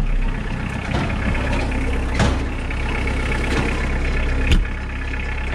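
A truck engine idles in neutral with the parking brake set and PTO engaged to drive a wood chipper at a sawmill, giving a loud, steady diesel rumble with a few faint clanks and one sharp knock near the end.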